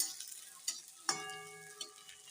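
Onions sizzle steadily in oil in a pan as they fry until reddish-brown, with a few sharp clinks and scrapes from stirring, and no talking.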